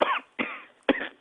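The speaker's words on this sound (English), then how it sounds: "Mike, I can hear you coughing." A caller coughs three times over a phone line, each cough short and harsh and spaced about half a second apart, close and with nothing else heard.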